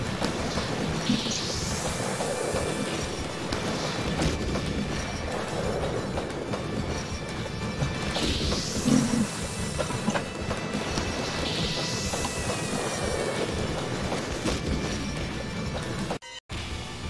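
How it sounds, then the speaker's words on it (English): A train in the arcade game Aqua Jack rolls along with a dense mechanical rumble, broken by several rising, squealing sweeps and a glitchy crackle near the end. "Oh, okay, it's a train thing."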